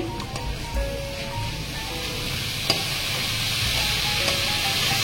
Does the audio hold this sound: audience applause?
no